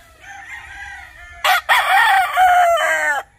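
A Sweater Kelso gamefowl rooster crows close by on a game farm. One drawn-out crow is cut short and followed by a second, louder and longer crow.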